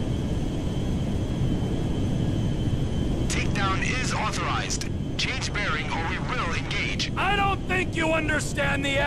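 A fixed-wing plane descends for a landing at Mackenzie Field in GTA 5, its steady engine roar and rushing air droning loudly throughout, with a voice talking over it in the latter half.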